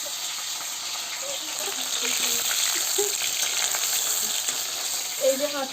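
Potatoes frying in hot oil in a home kitchen, a steady close-up sizzle with bubbling crackles and occasional louder pops, running continuously through the clip.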